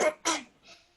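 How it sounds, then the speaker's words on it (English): Two short, harsh coughs in quick succession, close and fairly loud, followed by a fainter breathy sound. "You cough while you're singing"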